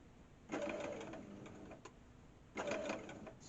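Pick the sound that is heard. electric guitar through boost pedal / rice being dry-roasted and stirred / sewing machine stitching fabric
sewing machine stitching fabric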